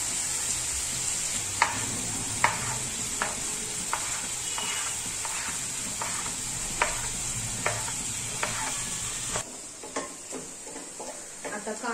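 Finely chopped onion frying in a pan for a pea curry, with a steady bright sizzle and repeated clinks of a spoon stirring against the pan, the sizzle dropping away near the end.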